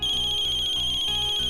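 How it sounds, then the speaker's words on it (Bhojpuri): A mobile phone ringtone for an incoming call plays loud and steady, a continuous electronic melody with a rhythmic pulse and no voices. "दोबारा फोन आ रहा बा"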